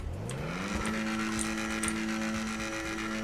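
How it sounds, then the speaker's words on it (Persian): A car engine in the video game GTA V hums steadily and rises in pitch as it revs, then holds a constant drone, with faint clicks and no talk. "واقعا صدا ماشین شوتی میده"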